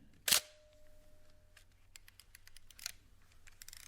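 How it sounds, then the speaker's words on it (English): An old 1970s single lens reflex camera in vintage leather fires its shutter with one sharp, close mechanical snap, followed by a faint tone and small scattered clicks, then a second softer release. "releasing the shutter"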